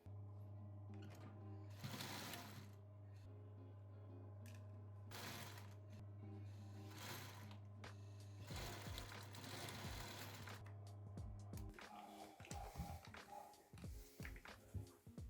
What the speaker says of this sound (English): So I'm gonna sew as close to the edge of this as possible.